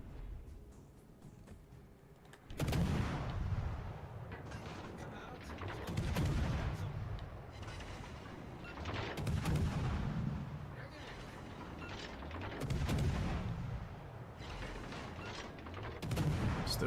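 Heavy naval gunfire from warships in World of Warships: Legends, booming salvos repeating every few seconds with rumbling tails, loud and close amid continuous battle noise.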